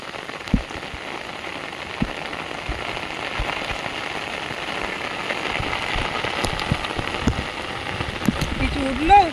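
Heavy rain pours onto an open field beside a muddy, running stream, a dense steady hiss scattered with sharper drop hits, while a voice sounds briefly in the background.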